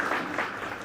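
Audience clapping at a fireside chat event, a dense steady patter of many hands filling the room at moderate volume for a brief moment.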